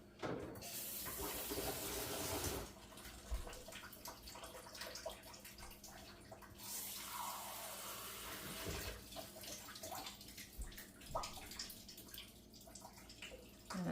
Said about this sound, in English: So let me get a little bit of water in here.